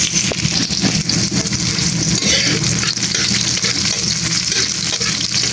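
Chopped onion sautéing in a hot pan, a steady, loud, close sizzle with crackling spatter that continues unbroken throughout, with no voices.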